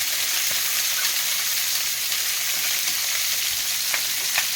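Steady, dense sizzling of British bangers frying in a hot pan, a continuous crackle with a few sharper pops, close and fairly loud.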